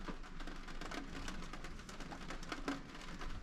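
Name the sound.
rain falling at Uluru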